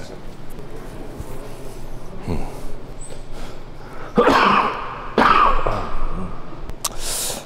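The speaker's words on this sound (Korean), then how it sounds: "감기가 다 난 것 같은데 아직도 기침이." Two sharp, forceful coughs or sneezes burst out close by over steady background noise, with faint talking around them.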